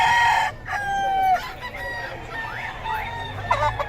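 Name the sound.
chickens and roosters at a market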